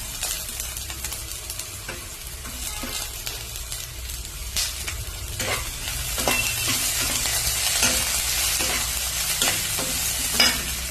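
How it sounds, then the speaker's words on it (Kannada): Onions and curry leaves frying in a pan, a steady close sizzle with scraping stirring strokes and occasional sharp crackles that grow slightly louder toward the end, with no talking. "ಇದು ಕೆಂಪಾಗೋವರೆಗೂ ಸ್ವಲ್ಪ ಹುರಿಬೇಕು."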